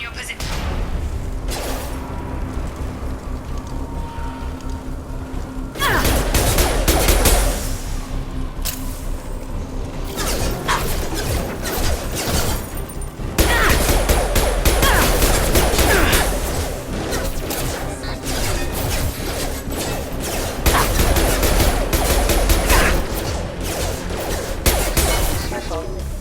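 Gunfire from attacking security mechs in Mass Effect 2, sustained bursts and crashing impacts with louder stretches, under voices speaking.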